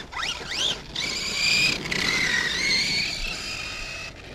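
A DHK Zombie 8E 4S electric RC car runs at full throttle outdoors, giving a high, rising and falling motor whine with tyre squeal that carries on steadily for several seconds.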